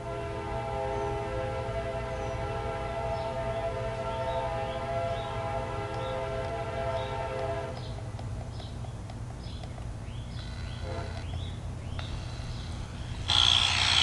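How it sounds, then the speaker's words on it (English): A train rolls by close and loud, a steady droning rumble with a sustained horn-like tone that shifts as it moves on. "And now here comes a train."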